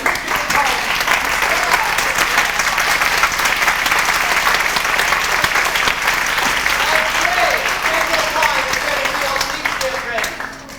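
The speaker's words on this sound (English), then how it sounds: "A warm round of applause, if you will, for our fully trained orchestra" A community theater audience applauds the orchestra at a stage musical, a dense sustained roar of clapping lasting throughout and tapering slightly at the end, with a voice faintly audible beneath.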